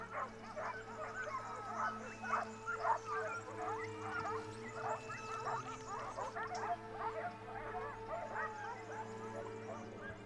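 Hunting dogs close in on a group of wild boar during a Spanish montería, an excited chorus of yips, whines and barks carrying from a moderate distance in a continuous overlapping stream.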